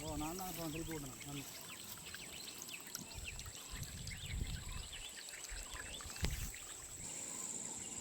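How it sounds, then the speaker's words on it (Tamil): Water runs into a rice paddy field outdoors, a soft steady trickle and gurgle under a man's speech, with birds calling in the background. "வயலுக்கு தண்ணி பாஞ்சு கொண்டு இருக்கு"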